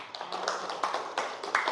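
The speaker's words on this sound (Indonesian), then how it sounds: "Tepuk tangan." A classroom audience gives a short round of applause, scattered claps coming through at moderate loudness with no one talking.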